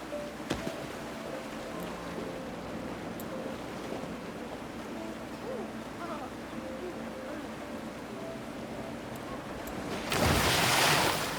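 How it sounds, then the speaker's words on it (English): A water coaster in a video game runs under a steady wash of water and ambient noise, then a loud rushing splash breaks out near the end and lasts about a second. "The splash isn't as big as I anticipated"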